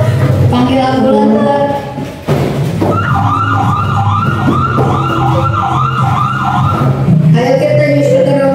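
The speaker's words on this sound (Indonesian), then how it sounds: "Panggil ambulan." An ambulance siren wails in a steady, loud up-and-down cycle during a school drama performance, with voices talking over it at the start and end.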